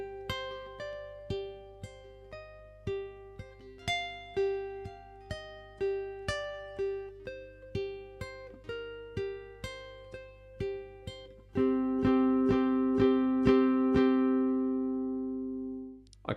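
A ukulele plucks line 4 of a song as a series of distinct single notes in a steady rhythm, ending in a louder ringing strummed chord that sustains and fades.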